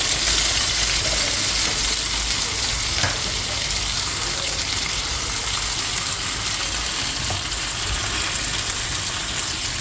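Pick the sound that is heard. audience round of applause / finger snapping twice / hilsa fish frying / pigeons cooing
hilsa fish frying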